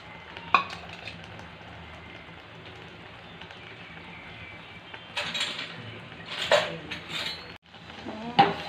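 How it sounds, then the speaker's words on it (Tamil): Cashew nuts frying in ghee in a pan for egg biryani give a soft, steady sizzle with a few stirring scrapes and clinks of a spoon against the pan, growing busier toward the end. "நெய்யை ஊற்றி முந்திரி பருப்பை போடணும்"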